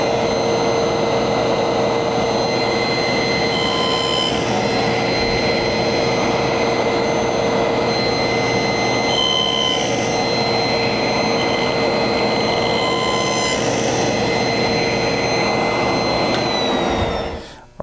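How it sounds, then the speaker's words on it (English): A table saw runs with a loud, steady, high whine while cutting decorative grooves around the outside of a wooden bowl, holding constant for many seconds before spinning down at the end. "we've finished the last of the decorative grooves all the way around the outside of the bowl"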